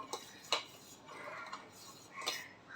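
Metal spoon clinking and scraping against a pot while stirring rava kheer with almond slivers and ghee, a few distinct clinks with soft scraping between, close and fairly quiet.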